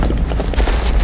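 A short, heavy boom from a blast in The Bureau: XCOM Declassified, loud and close, with deep rumbling low end and no talk over it.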